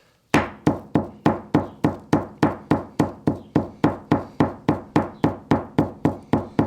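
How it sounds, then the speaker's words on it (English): Steady, evenly spaced light hammer taps on sinew, about three per second, each a sharp knock that quickly fades, repeated over twenty times with nothing else audible. "So again, I'm just doing some really light hammering."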